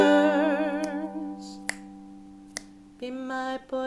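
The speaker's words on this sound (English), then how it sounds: "Wake up, snap your fingers" Finger snaps during a live ukulele set of original filk songs, three sharp isolated clicks spaced about a second apart over a sustained sung note and strummed chords.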